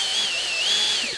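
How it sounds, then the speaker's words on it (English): A drill boring a pilot hole at a slight angle into a DIY LiFePO4 battery box makes a thin, high motor whine that rises and dips in pitch over about a second, close by. "You're going to want to drill a pilot hole, and you're going to want to take it at a slight angle."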